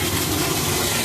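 A container train crossing Highway 144 in Ontario, Canada gives a steady, loud low rumble of heavy engines and rolling freight, continuous and close throughout with no talking.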